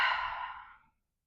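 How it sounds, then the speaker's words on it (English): A single long exhale, a soft sigh-like breath during a lying-down stretch, is close and airy and fades out within about a second. "Take a few breaths here."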